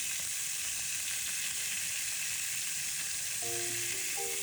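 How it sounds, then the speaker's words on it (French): Chicken with turmeric and spices sears in a hot pan, a loud continuous hissing sizzle that holds steady throughout, with brief tonal notes near the end. "ça va être plutôt une saisie de notre poulet."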